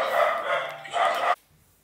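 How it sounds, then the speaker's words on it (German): Several dogs bark excitedly in a dense, continuous volley at close range, the loud overlapping yaps cutting off abruptly near the end, leaving quiet. "Die Hunde drehen durch"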